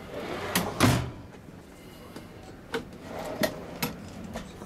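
Several wooden knocks and clunks of cabinet doors and drawers opening and shutting in the kitchen of a 2011 Jayco Grey Hawk 31DS Class C motorhome, spaced irregularly and fairly close, with no talking.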